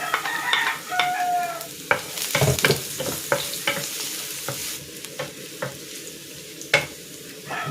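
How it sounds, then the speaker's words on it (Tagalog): Garlic sautés in hot cooking oil, a loud crackling sizzle punctuated by repeated sharp scrapes and knocks of a utensil stirring in the pan, with a rooster crowing faintly early on. "Magigisa na ako dito ng bawang."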